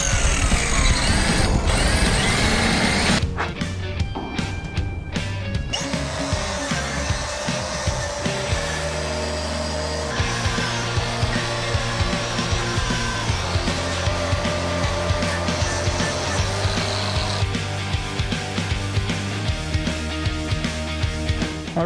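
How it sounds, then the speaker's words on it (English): A grinder whines loudly right beside the microphone during a rebuild of a Case IH ADX2230 air seeder, a harsh sustained tone that shifts pitch as it bites and eases, running continuously alone. "Nothing like having a grinder right next to your head."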